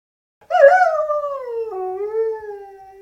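A coyote, a wary song dog, lets out a single clear howl, rising briefly and then gliding down in a long, sustained wavering tone, close and alone without other sounds.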